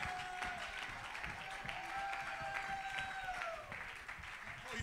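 Church congregation clapping hands during a sermon, a faint, sustained wash of clapping heard from a distance with a voice and a held tone over it.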